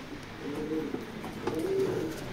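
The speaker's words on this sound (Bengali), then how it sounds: "কবুতরটা অনেক বিগ সাইজের আছে" A large male racing pigeon coos softly in two low, throaty phrases over a quiet background hiss, with no speech.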